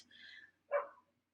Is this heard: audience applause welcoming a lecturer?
no